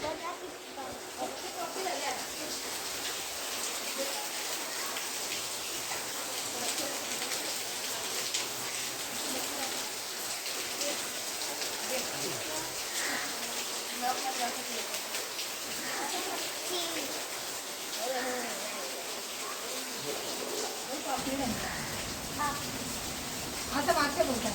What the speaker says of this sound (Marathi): बघा किती पाऊस पडतोय